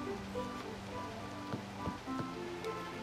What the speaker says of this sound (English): It's raining and you'll get sick.